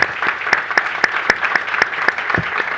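Steady applause from a crowd at a panel discussion, dense clapping with a few sharper claps standing out, fairly loud and continuous throughout.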